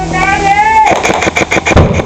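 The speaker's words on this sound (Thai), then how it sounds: "ระเบิดระเบิดในบ้าน" A rising tone gives way to a rapid burst of sharp, loud pops and bangs, close by, like a small grenade going off: an airsoft grenade exploding indoors.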